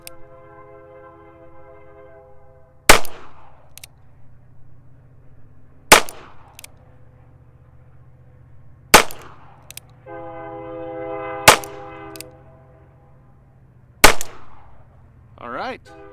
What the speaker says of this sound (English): I'll fire 6 shots and we'll take a look at the results.